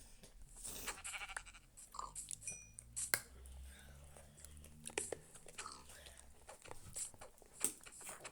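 Minecraft sheep bleat several times, short nasal calls scattered over a busy background of chewing noises and low hum, with occasional faint voices.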